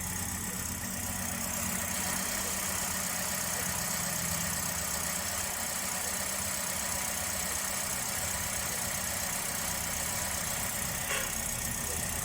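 A repaired car engine idles steadily and loudly up close, a continuous mid-pitched rumble with a slight knocking vibration and no pauses or talking.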